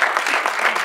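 Audience clapping hands at a stage event, a brief loud burst of dense applause with no voice over it.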